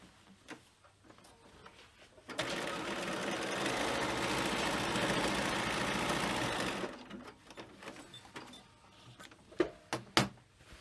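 A sewing machine stitching across the seams of a frame bag to box the corners, a steady fast mechanical whirr lasting several seconds, framed by quiet handling and a few sharp clicks afterward.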